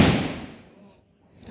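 Firecrackers set off during a village festival: one sharp, loud bang at the start that decays over about a second, followed by near-quiet and faint background noise.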